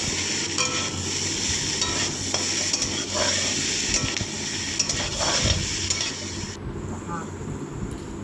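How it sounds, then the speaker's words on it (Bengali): Garlic paste sautéing in a pan for a prawn and yam curry, a loud continuous sizzle with scraping stirring strokes throughout, close and steady. "দিয়ে সেটিকে ভালোভাবে মিশিয়ে নেব আর কষতে থাকবো"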